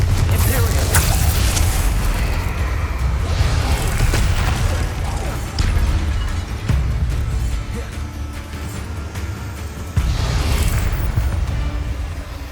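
Bombarda and Confringo spell blasts in the game Hogwarts Legacy, repeated loud booming explosions with heavy low rumble and bursts of debris, several hits in quick succession with spoken incantations between them.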